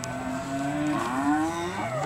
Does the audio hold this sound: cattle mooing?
yes